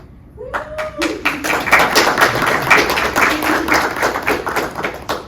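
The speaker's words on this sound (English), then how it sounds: "Don't applaud for me" Audience applause for a speaker at a spaceport rocketry boot camp introduction, a dense run of many hands clapping steadily throughout, with a brief voice near the start.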